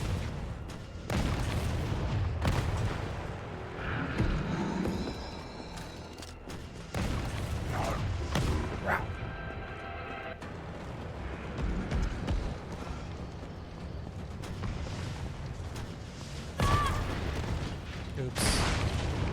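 Rocket launcher blasts in Resident Evil 3 Remake, heavy booms and explosions repeating over game music and speech.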